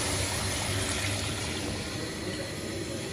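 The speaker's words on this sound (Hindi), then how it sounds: "पानी ऐड हो रहा है" Water from a bucket pours steadily into a cooking pot of browning chicken, a loud, continuous rushing splash that fills the whole moment with no voices over it.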